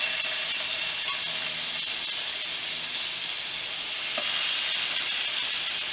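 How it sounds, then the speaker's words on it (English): Pork cutlets sear on a griddle preheated to 350 degrees, a steady, loud sizzling hiss that runs unbroken throughout with no voices. "Place your pork cutlets onto the griddle."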